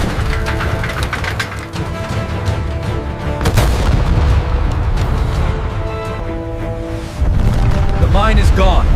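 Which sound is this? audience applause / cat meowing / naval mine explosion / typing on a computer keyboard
naval mine explosion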